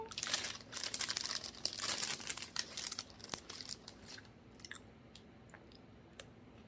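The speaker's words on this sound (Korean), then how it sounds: "빼빼로를 먹어보도록 하겠습니다" Crunchy Pepero sticks are eaten up close at low volume: crinkling packaging first, then soft, irregular crunching and chewing bites that fade toward the end.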